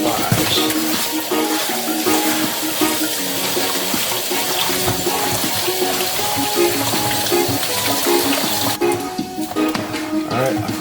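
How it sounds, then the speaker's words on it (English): White rice being rinsed under a running kitchen tap, a steady loud rush of water splashing through grains for the whole stretch, with a slight change in the flow near the end. "this is the rice, white rice. I don't cooking, so I'm just rinsing"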